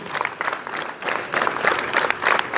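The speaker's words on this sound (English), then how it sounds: "Hands up. Clap together." Students clap together during a school assembly, the claps forming a dense, continuous rattle of many hands at moderate volume throughout.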